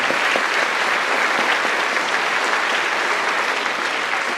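Audience applause at a school Christmas concert, a dense, steady wash of clapping held at even strength for the whole stretch, with no talking over it.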